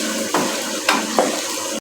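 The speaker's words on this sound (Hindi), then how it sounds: "इस तरह चमचे से फेर फेर के पानी को खुश्क कर लेना है।" Chicken for a tomato chicken karahi sizzles in a pan as a spoon stirs it and its released water cooks off, a steady close hiss with three scraping stirs and no talking.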